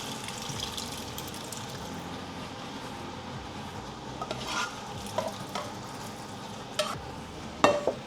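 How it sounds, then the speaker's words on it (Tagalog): Boiled mung beans are poured into a pan of browned meat, and a soft sizzle rises with wet stirring and scraping. A few small clinks of utensils sound near the end, all fairly quiet. "pwede na nating ibuhos dito yung munggo. Yung pinakuluan nating munggo."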